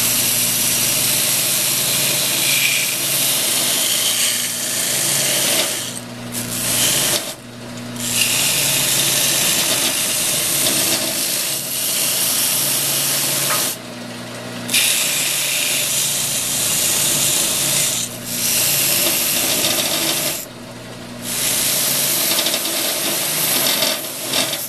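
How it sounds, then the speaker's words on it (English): A buffing sander fitted with a sanding mop smoothing a workpiece in a shop, a loud continuous whirring grind with several brief drops where the piece is lifted away. "We'll do that on the belt, not the belt sander, but the buffing sander over there."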